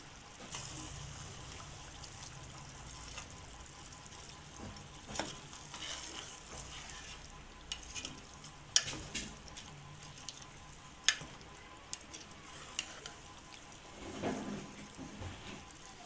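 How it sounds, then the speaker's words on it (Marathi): A spoon stirs fried dried Bombay duck and potato pieces into a simmering curry, a soft steady sizzle broken by scattered scraping clinks and a few sharper knocks against the pot. "आता यामध्ये तळलेले बोमलाचे तुकडे आणि बटाट्याचे तुकडे टाकून हे व्यवस्थित मिसळून घेऊ"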